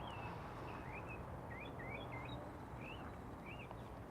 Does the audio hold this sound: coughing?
no